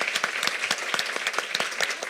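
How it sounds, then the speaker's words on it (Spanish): An audience at a screening and talk on animation claps for the film directors and producer, a steady, moderately loud patter of many hands with no voices over it. "aplausos para los directores, la productora"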